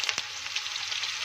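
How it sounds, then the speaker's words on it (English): Ginger frying in a pan for a spicy fermented soybean chutney, a steady close hiss and sizzle with one small pop. "I'm frying ginger first because I don't want my other ingredients to get over fried."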